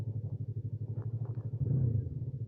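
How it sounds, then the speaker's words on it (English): A Yamaha MT-03 motorcycle engine burbles steadily close by as the throttle is backed off, a low pulsing rumble that thickens briefly before settling again. "Lovely sound when you just back off that throttle."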